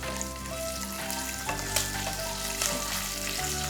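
Curry leaves, cumin seeds, whole green chillies and dried red chillies sizzle steadily in hot oil for a tempering, a continuous close frying hiss with a few sharper crackles and a low hum underneath.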